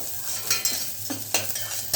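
Onions and chopped tomatoes tempered and frying in a pan for a mushroom curry, a steady close sizzle broken by a few scraping stirs with a spoon.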